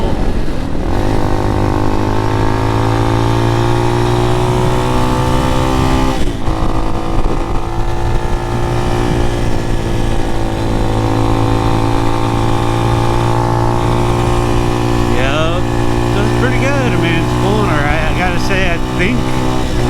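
Amazon X-Pro motorcycle engine, either the KPM 200 or Hawk 250 DLX, droning steadily under load while pulling up a fairly steep hill, with a constant close engine note and wind noise throughout and a brief rise in revs near the end.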